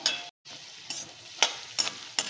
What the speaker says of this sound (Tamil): 2 நிமிஷம் வதக்கிக்க போகிறோம்.